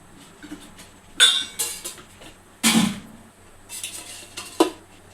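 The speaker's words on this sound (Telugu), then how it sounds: "కడాయి వేడి చేసుకొని ఇప్పుడు దీంట్లో ఆయిల్ పోసుకోవాలి" A kadai pan is set down on the stove and oil is poured in while making punugulu. The clip has several distinct metallic clanks and scrapes of cookware, separated by quiet gaps, with no talking.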